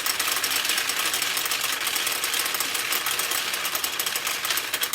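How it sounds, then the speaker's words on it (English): A Nishijin Power Flash Thunderbird pachinko machine feeds balls out into its bottom tray, making a dense, steady metallic rattle that stays loud and unbroken throughout, with no voices. "the machine then starts to feed balls out the bottom tray"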